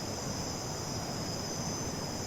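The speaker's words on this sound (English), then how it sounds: "notice the sounds of the jungle," Night jungle ambience of crickets, a continuous high-pitched insect trill layered over a constant low hiss, steady in level with no breaks.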